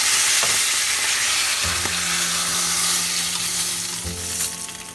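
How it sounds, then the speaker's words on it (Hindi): Pomfret fish fries in mustard oil with a dense, steady sizzle and crackle, close and loud, with faint utensil knocks. "और एक फिश है, उसे भी मैं फ्राई कर लेती हूँ।"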